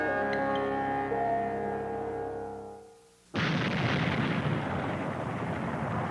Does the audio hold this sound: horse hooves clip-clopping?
no